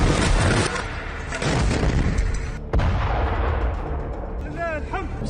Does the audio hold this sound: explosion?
yes